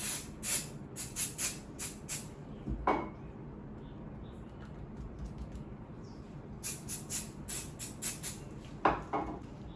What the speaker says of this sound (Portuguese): Eu vou dar uma ajudadinha aqui com um pouco do spray ice